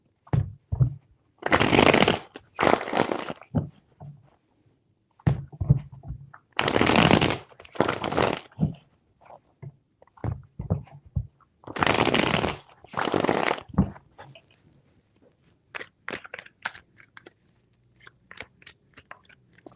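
Tarot cards shuffled by hand in three distinct crisp bursts of riffling, close and clear, separated by quiet pauses with faint handling noises.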